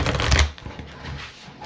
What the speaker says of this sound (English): When I was shuffling your deck, it was very difficult to shuffle your deck